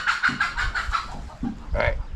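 Chicken clucking in a rapid run of short, fairly close calls, a brief pause, then a louder final squawk, with no talk.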